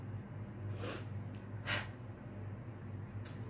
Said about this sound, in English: Sorry if I'm sniffling.